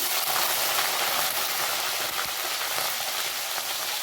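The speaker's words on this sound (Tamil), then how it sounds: "கருவேப்பிலை காஞ்சதும் நம்ம இந்த பூண்டை இதில் போடணும்." Garlic frying in oil in a pan with curry leaves for tomato chutney, giving a bright, continuous sizzle and crackle up close with small pops, steady throughout and without talking.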